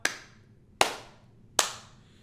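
Three single hand claps land sharply at an even, slow pace, each ringing out briefly before the next, close and clean with no voices.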